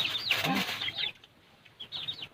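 Chickens clucking in the countryside near a rambutan orchard in Pak Chong, a few short, bright clucks and squawks close by, a burst, a pause, then another brief run, fairly quiet overall.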